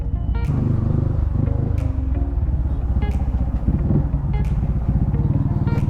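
A Sniper 155 motorcycle fitted with a kalkal exhaust pipe idles nearby with a steady, throbbing rumble. Sharp periodic pops and crackles rise from the pipe over six seconds.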